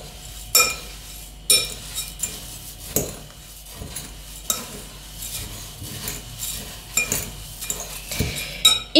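Dry ingredients, cocoa among them, are stirred in a bowl with a metal utensil, giving repeated clinking scrapes in an irregular rhythm, close and fairly clear, with no talking.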